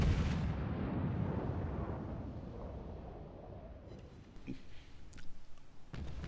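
Battleship main guns firing in the naval game World of Warships, with the German battleship Scharnhorst on the Fault Line map: a heavy, booming blast that rolls away over several seconds, followed by fainter distant thuds and impacts.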